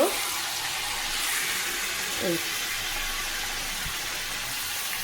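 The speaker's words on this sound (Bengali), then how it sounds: "এখানে পেঁয়াজ আর রসুনটা ভেজে নিয়ে মাটনটা দিয়ে দিয়েছি এটা একটু কষানো হোক" Mutton sautéing in a pan with fried onion and garlic, a continuous loud hissing sizzle throughout with a couple of faint clinks underneath.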